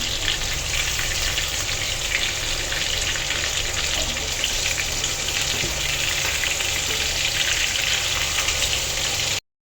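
Fish pieces fry in shallow oil in a pan at night, a steady dense sizzle and crackle running loud and close throughout before cutting off abruptly.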